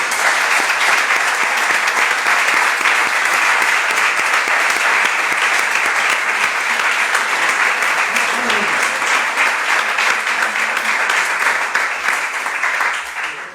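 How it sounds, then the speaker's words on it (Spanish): Sustained applause from a seated audience at a cultural conference talk, loud and dense, holding steady for several seconds before tapering off at the end. "Yo creo que se merece un aplauso,"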